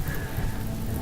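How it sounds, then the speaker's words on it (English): Steady rain falls in the video game RimWorld, a soft, even hiss of drops that stays constant throughout with no gaps or distinct impacts. "So it is raining right now, which is fantastic."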